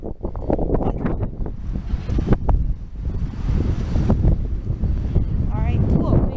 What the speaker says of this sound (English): Maybe this wind is like strong.